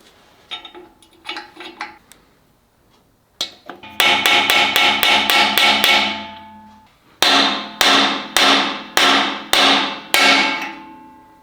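Sharp metallic hammer blows drive the outer pinion bearing race into the axle housing of a 9.75 axle from a 2004 Ford F-150, first a few lighter taps, then two loud runs of rapid, evenly spaced strikes close by.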